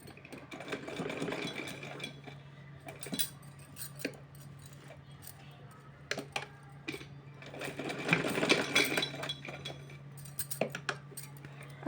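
A sewing machine locks the edge seam of a small doll dress for Laddu Gopal, its needle running in steady rapid bursts with brief pauses and faint clinks, close and fairly quiet, with no talk.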